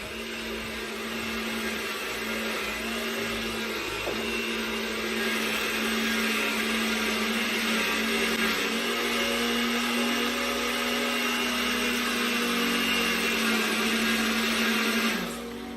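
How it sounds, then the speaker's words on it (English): A blender whirs continuously at high speed blending pumpkin, a steady loud motor drone with a slight change in pitch midway before cutting off at the end. "I use a blender because I want it done real fast."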